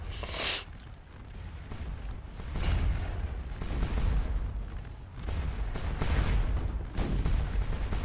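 Scattered musket fire from skirmishers in Scourge of War Waterloo, a Napoleonic battle at Quatre Bras: a steady rumble of distant and mid-range shots with louder rolling bursts, continuous throughout, no talk.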